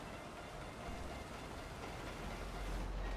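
A train in GTA 5 rumbles steadily past at close range, a continuous heavy rail roar with faint clatter throughout and no voices.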